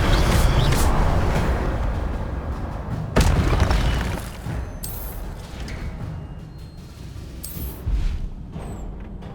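Incendio fire spells cast in the Hogwarts Legacy video game, a series of loud whooshing bursts and booming blasts, the strongest at the start and a second sharp one about three seconds in, with fainter bursts trailing after.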